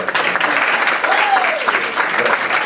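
An audience applauds Mary Ann, who brought the Dolly Parton Imagination Library to 60 of 75 counties, with steady dense clapping and a few voices rising over it throughout.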